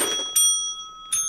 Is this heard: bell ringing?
yes